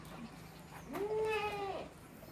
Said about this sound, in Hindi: हैवी वेट में बकरा है, बकरी भी सेहतमंद है